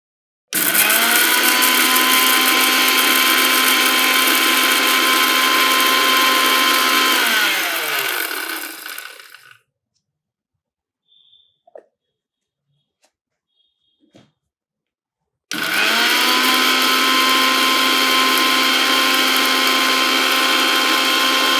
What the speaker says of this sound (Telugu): ఈ 4 ఇంగ్రీడియెంట్స్ మనం ఫస్ట్ మిక్సీ పట్టుకోవాలి